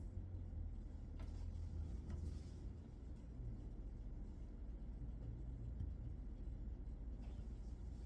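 A FedEx delivery truck idles and pulls up outside, a steady low engine rumble that stays constant throughout, heard from a moderate distance with no talk over it.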